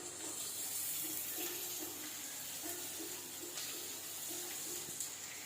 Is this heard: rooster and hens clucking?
no